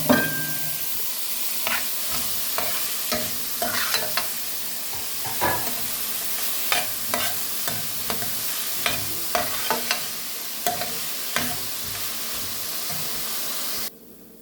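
Chopped carrots sizzle and fry in a pan for Malabar-style ghee rice, with a steady hiss broken by repeated sharp scrapes and clinks of a spoon stirring, close and fairly loud throughout.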